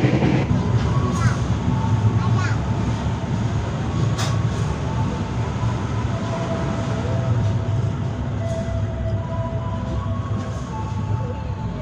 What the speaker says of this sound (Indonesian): KA Bengawan kembali diberangkatkan dari stasiun Wates Yogyakarta jam 21:56 menit